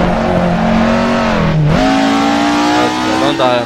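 A Ford Escort RS 1600 engine revs hard in the Assetto Corsa racing game, a loud, continuous rising and falling drone with a brief dip around a gear change before climbing again.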